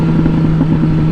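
A Suzuki GSX-S 750 motorcycle engine running with no exhaust fitted makes a loud, raw, steady mechanical drone with a pulsing beat, close and alone.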